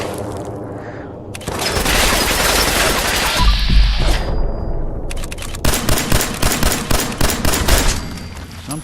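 Gunfire in Fallout 4 VR: a sustained loud burst of shots with a booming impact midway, then a rapid series of repeated sharp shots, close and loud with little talking.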